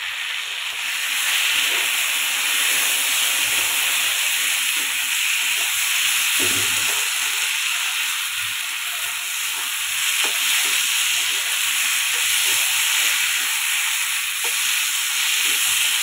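Spice paste of cumin, ginger and chili frying in a pan, a loud, steady sizzling hiss with occasional soft stirring scrapes, close and continuous for the whole stretch, no talking.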